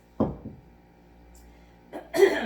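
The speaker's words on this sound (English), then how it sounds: "I'll be clearing my throat a lot" A short cough or throat clearing sounds close by, followed after a quiet pause by another rougher, breathy throat clearing.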